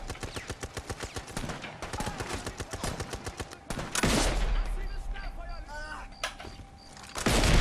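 Rapid machine-gun bursts in the Brothers in Arms 3 sniper shooter game, a fast rhythmic string of shots followed by heavier blasts and scattered gunfire, with a voice talking over the action.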